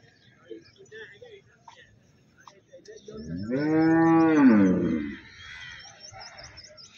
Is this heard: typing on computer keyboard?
no